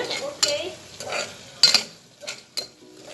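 Onions with chilli and curry leaves cook gently in a pan on low heat for chicken biryani, a quiet sizzle broken by several clanking stirs of a metal spoon against the pan.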